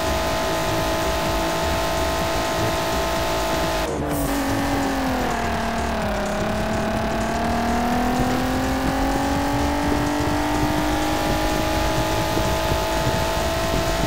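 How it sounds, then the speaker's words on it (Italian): Race car engine in the driving game Juiced 2 (Hot Import Nights), a loud, sustained drone that drops in pitch around a gear change or lift-off, then climbs steadily again, with road and tire noise underneath and no talking. "è altissimo il volume del motore"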